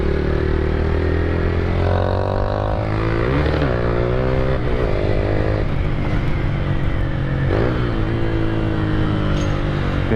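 A motorcycle with a loud aftermarket exhaust revs hard and continuously, its deep rumbling roar rising and falling in repeated throttle blips, close and alone.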